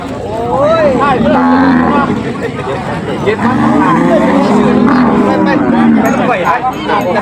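Cattle lowing repeatedly at a busy cattle market in Sakon Nakhon, Thailand, several loud moos overlapping amid crowd chatter and people talking nearby.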